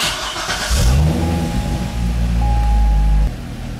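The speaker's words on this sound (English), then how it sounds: "Oh dang, I have to do it with the car running." A Chevrolet Corvette with an ABS fault starts up and settles into a steady, loud idle nearby, a brief rev at the start followed by an even low engine drone that cuts off abruptly, with no voices.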